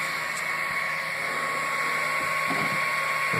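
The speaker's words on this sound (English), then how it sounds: "Hear the fans fire up." Cooling fans on a Freaks3D 3D printer spin up right after it is plugged in, a steady whirring hum with a faint high whine that holds evenly for a few seconds, with no voices.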